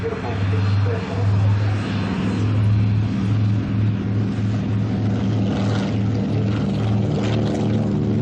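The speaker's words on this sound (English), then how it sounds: "Certainly a very ungainly looking, a very large aircraft on the ground" An ATR turboprop aircraft at an airshow hums with a steady, loud propeller drone, a sustained low tone with engine harmonics running throughout over broad background noise.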